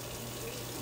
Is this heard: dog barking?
no